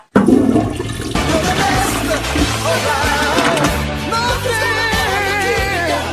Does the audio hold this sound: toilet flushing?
yes